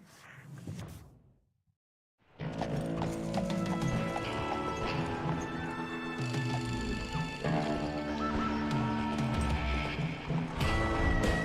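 A posse of horses galloping in the western game Call of Juarez: Gunslinger, heavy rolling hoofbeats with neighing, loud and continuous after a brief near-silent pause, with little talk.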